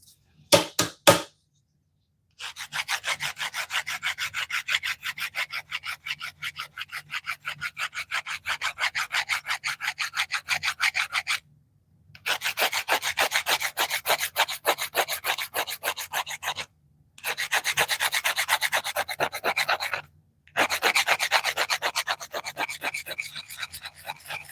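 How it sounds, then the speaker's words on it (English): Wood being sanded by hand: rapid rhythmic back-and-forth rubbing strokes in long bursts, separated by short pauses, close and loud. "I am gonna move into some, I guess, some more sanding"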